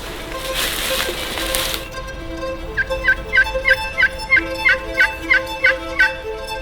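A wild turkey gobbles in a rapid series of about ten sharp, rhythmic calls, fairly loud, heard outdoors during a spring hunt in the southeastern US after a louder rushing noise fades.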